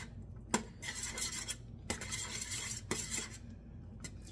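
A utensil stirs food in a pot with soft scraping, rhythmic sweeps and occasional sharp taps against the metal rim, fairly faint and close, over a low background hum.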